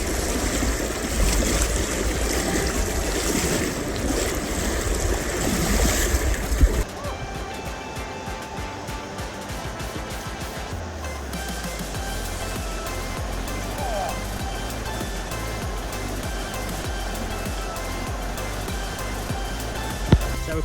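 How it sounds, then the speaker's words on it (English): River water flowing at a hiking river crossing in the Budawangs, a loud rushing babble at first that turns quieter and more trickling, with a voice now and then. "The water's flowing pretty decent,"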